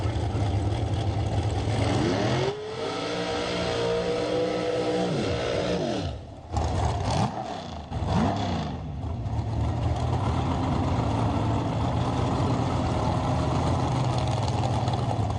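Dragsters race down the strip at a Sunday $20K Working Man drag racing event. Loud, continuous engine roar fills the air, with rising and falling pitch sweeps as the cars launch and pass.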